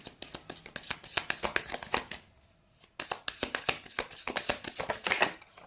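Tarot cards shuffled by hand in rapid, crisp riffling bursts, with a brief pause midway before the flicking and snapping resumes, close and fairly loud with no talking.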